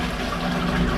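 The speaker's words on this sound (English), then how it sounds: "Let's check the flush." A toilet at a large music festival flushing, a loud close rush of water filling the whole short moment with no talking.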